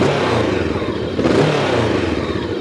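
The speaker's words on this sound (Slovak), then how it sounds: "Úplne typický pekný zvuk dvojvalca." Jawa RVM 500 twin-cylinder adventure motorcycle from 2021 with a stainless twin-outlet exhaust, its engine running loud and steady up close with a throaty rumble and a slight swell in revs midway.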